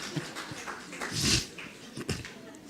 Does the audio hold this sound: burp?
no